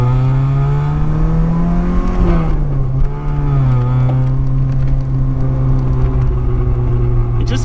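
A 1984 Volkswagen Rabbit GTI with about 100 horsepower and an aftermarket, non-stock muffler gives a loud, continuous exhaust drone while accelerating, its pitch climbing, dipping briefly at a shift, then holding steady close by.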